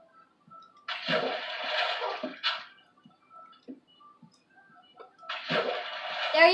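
Water poured into a pet cat's water bowl, two separate splashing pours with a quiet pause between them, close and fairly clear with no talk over it.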